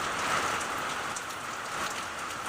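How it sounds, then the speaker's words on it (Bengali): Heavy rain pours steadily outside a window on an afternoon, a dense, even hiss of drops hitting surfaces that stays constant and fairly close, with no voices. "অঝরে বৃষ্টি হচ্ছে"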